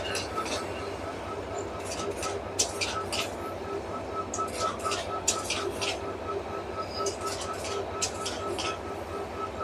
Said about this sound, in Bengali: অলরেডি কাউনিয়া জংশনে তিরিশ সিরিজের ইঞ্জিনটি প্রবেশ করছে সাথে আমাদের লালমনি এক্সপ্রেস